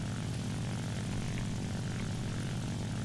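The piston engine and propeller of a La-9 fighter plane in War Thunder drone steadily and loudly for the whole clip, a dense, constant engine roar with no talk.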